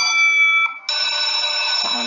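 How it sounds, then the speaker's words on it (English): A school bell rings with a steady, piercing electric tone, breaking off briefly in the middle before sounding again, close and loud with no voices. "Sound of the school bell."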